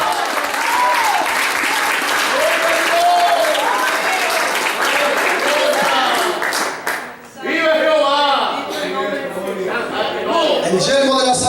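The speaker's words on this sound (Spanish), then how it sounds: "Denle fuerte el aplauso al Señor" A church congregation claps during a sermon, a steady wash of many hands under voices that sing or call out, briefly dipping before resuming with louder, voice-heavy clapping.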